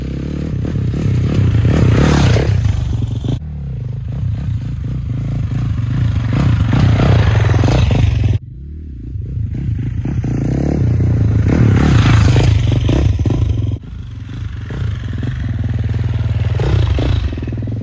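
An off-road motorcycle on a WP XACT Pro 6500 cartridge kit runs flowy single track in second and third gear, its loud engine droning and surging continuously close to the mic, mixed with wind rush and clattering over rough ground.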